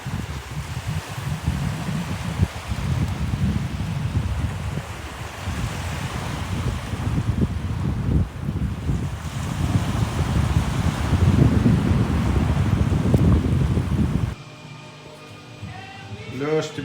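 Winter sea surf rolls onto the shore with gusting wind buffeting the microphone, a loud continuous roar of waves that stops abruptly near the end.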